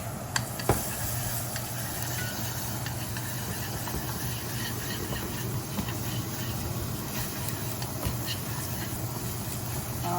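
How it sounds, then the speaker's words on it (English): Beef sizzles in a skillet while making a Vietnamese skillet breakfast (bánh mì chảo): a steady, close hiss and crackle with a low hum beneath it, continuous throughout, with a faint clink near the start. "I'm also going to be cooking my beef here."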